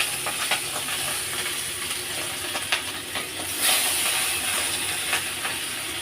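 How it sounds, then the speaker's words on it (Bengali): Salted, turmeric-rubbed hilsa fish frying in hot oil in a wok, giving a steady close hiss and sizzle throughout with a few sharper crackles and no talking. "এবার আমি মাছটা দিয়ে দেবো। কড়াতে আমার তেল গরম হয়ে গেছে।"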